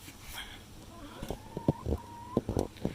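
A chicken clucks in short, uneven bursts nearby, with a brief rising squawk, over soft outdoor background noise.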